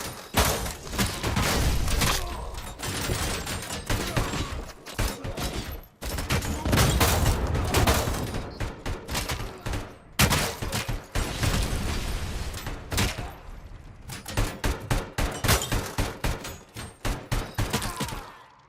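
A minigun roars in RoboCop: Rogue City in nearly continuous loud, dense bursts, with brief breaks between long volleys and heavy impacts mixed through the barrage.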